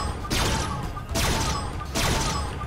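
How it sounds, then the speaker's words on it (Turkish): Three loud bursts of rapid gunfire in Minecraft come in quick succession, each a sharp clattering volley roughly a second apart, close and synthetic-sounding. "O silah sesi miydi?"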